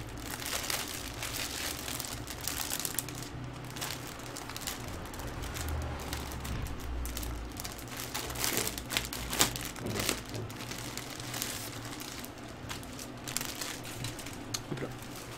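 Plastic packaging of a Dragon Ball Z t-shirt crinkles and tears steadily as it is opened up close, a continuous rustling with occasional sharper crackles and a voice speaking at times.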